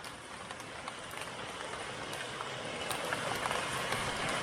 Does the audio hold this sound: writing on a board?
no